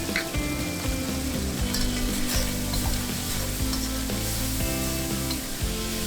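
Chicken stir-fried over high heat with light soy sauce, oyster sauce and chicken bouillon, sizzling loudly and steadily throughout with repeated scraping and clacking of the spatula against the wok.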